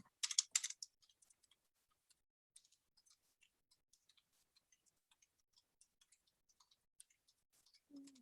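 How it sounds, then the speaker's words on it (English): Soft, quiet keystrokes on a computer keyboard while typing in a word processor, with a brief cluster of sharper clicks at the start and then light, irregular taps spread out, and nothing else heard. "now if I type something"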